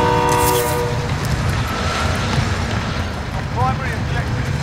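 A train rumbles past in Call of Duty Warzone, its horn blaring at the start over a loud, continuous rolling roar of rail cars, with players talking underneath.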